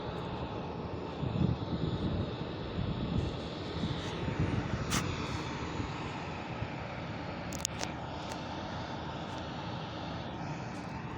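Airliners at Jinnah Terminal airport preparing for and making international departures, a steady distant engine roar filling the air with a continuous broad rumble and a few faint clicks on top.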